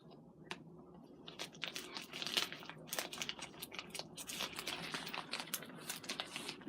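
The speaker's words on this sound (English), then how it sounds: "Fragile mailing envelope. Okay, let me open this." A fragile padded mailing envelope is torn and crinkled open by hand, close up, with continuous crunchy rustling and ripping that grows busier midway, and no talking.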